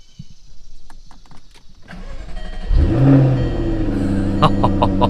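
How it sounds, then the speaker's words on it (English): A Jaguar F-Type S Roadster's V8 engine cranks and roars to life with a deep burst, then settles into a loud, throbbing idle, heard from inside the cabin. "I'm going to start it up just so we can hear that glorious V8 on the inside here"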